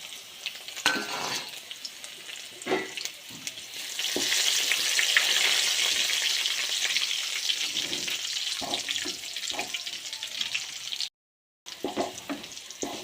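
Curry leaves sizzle and crackle in hot oil close by, the hiss swelling louder partway through with occasional clinks, then a brief gap.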